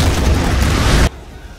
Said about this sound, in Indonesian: Namun sayang, ledakan lebih dulu terjadi.